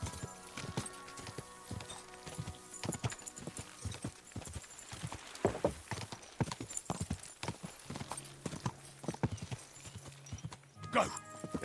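A horse's hooves gallop in the medieval video game Kingdom Come 2, a fast, continuous clip-clop at moderate volume with rattling tack, someone talking over it.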